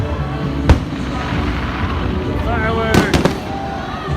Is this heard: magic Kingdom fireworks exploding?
yes